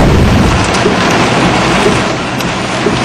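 Heavy rain pours in Mussoorie, Uttarakhand, with water rushing down under pressure in a loud, continuous broadband roar that stays steady throughout, with no voices.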